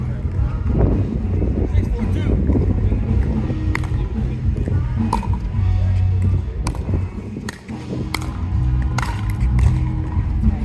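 Heavy wind roars steadily across the microphone at an outdoor pickleball nationals match, with scattered sharp paddle pops and faint voices in the background.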